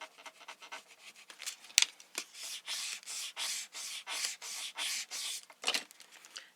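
Adhesive foil vinyl being rubbed down and peeled back on a craft project, a close scratchy rasping that comes in steady rhythmic strokes, with one sharp click near the start.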